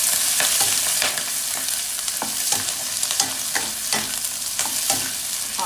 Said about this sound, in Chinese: 油热之后呢，下虾